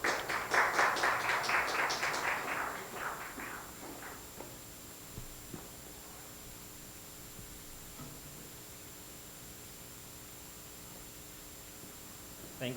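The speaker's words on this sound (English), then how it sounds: "So let's all give a round of applause to Michael Lacanilao." Audience applause for a speaker at a talk, a short burst of clapping that fades over about four seconds into quiet room hiss with a few soft taps.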